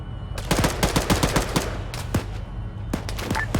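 Rapid bursts of video game gunfire in a tactical multiplayer battle over a central airfield, with sharp repeated shots and short automatic volleys clustered through the middle, loud and close, with no talking.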